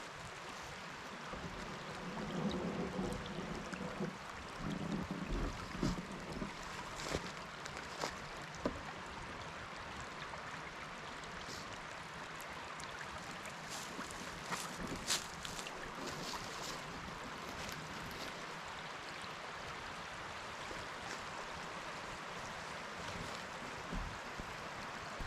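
Water from an old mill raceway spills into Buckhorn Run, a steady, continuous rush of flowing water, fairly close and unbroken throughout, with no voices.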